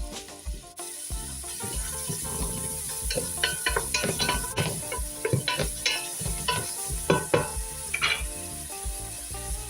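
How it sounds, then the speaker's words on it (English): Carrots, celery and onion cook in a pot for lentil soup with Italian sausage, giving a low sizzle under frequent stirring clinks and scrapes, over a steady background hum. "Add the carrots, celery and onion to the pot and allow to cook for 5 minutes, stirring occasionally"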